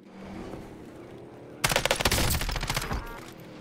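Dense automatic gunfire erupts in a battle royale shooter video game with a closing gas zone, a rapid loud volley of overlapping shots that starts abruptly after a quiet stretch and rattles on for about two seconds.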